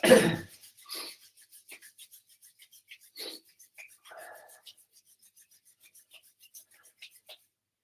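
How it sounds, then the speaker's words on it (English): Hands rubbing together during a shiatsu energy-work class: a brisk burst of close friction, followed by scattered faint brushing and rasping touches with quiet gaps between them. "rubbing our hands together"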